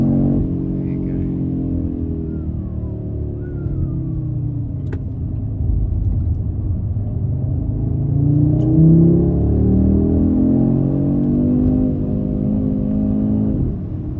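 An Audi RS3 of the 8Y generation rumbles steadily at low revs from inside the cabin, a deep continuous drone that swells briefly partway through, with no speech.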